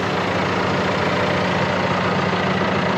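John Deere tractor fitted with BKT AgriMax V-Flecto tires, its engine idling close by with a steady, loud, unbroken low rumble and no talk.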